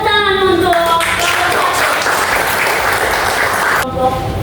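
A student group in a classroom gets applause, steady clapping from the room that fills most of the clip, with faint voices at the start and end.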